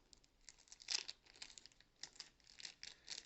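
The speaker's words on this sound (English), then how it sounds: "if I can get it out of this plastic bag here" Crinkly plastic bag being rustled as a small sticker for a Skyhawk is pulled out of it, giving quiet, irregular crackling bursts up close with no talk.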